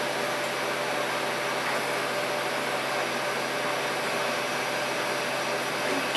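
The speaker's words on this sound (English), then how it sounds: "It sounds like there's a dry gear wheel or something in that" A DVD-ROM drive with a dry gear wheel whirs steadily, a continuous close hissing, grinding drone that holds level throughout with no talk.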